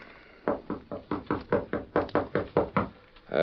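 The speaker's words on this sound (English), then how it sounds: "I'll knock." Rapid knocking on a door, about a dozen quick even raps in a steady run, close and clear with no talking over them.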